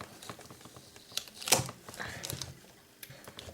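Adhesive tape is peeled off the cardboard box of a GoPro Hero 3 Black Edition camera, giving faint, close crinkles and small clicks with one sharper rip partway through.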